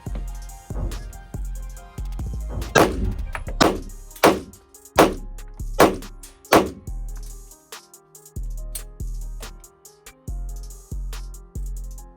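A Prodigy pistol fires six sharp shots in a fairly steady rhythm, moderately close, over a continuous low background.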